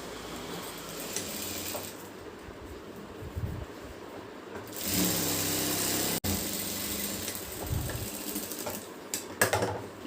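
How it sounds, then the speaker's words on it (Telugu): A sewing machine stitches lehenga skirt fabric, giving soft intermittent whirring runs mixed with clicks and handling rustle. A louder, denser burst of stitching runs for about two seconds midway. "ఉల్టా మీద కుడతానండి."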